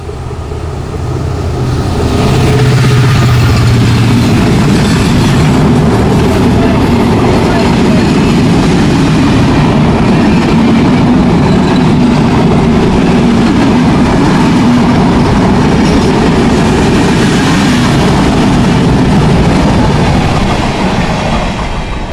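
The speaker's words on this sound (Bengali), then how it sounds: "রকেট মেইল ট্রেনটি খুলনা থেকে ছুটে আসছে হড়হড় করে" The Rocket Mail train from Khulna rushes through a small station, a loud sustained roar of wheels and rattling cars that swells in after a couple of seconds and holds steady, with a voice faintly talking over it.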